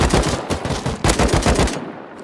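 Rapid automatic gunfire in the video game Rust, a loud close burst of many quick shots running nearly continuously for a couple of seconds with no talk.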